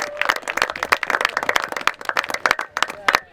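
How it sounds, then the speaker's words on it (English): A crowd at an Ireland vs Zimbabwe polocrosse match applauds, a dense, lively run of claps with voices talking and calling over the clapping. "Round of applause there, guys"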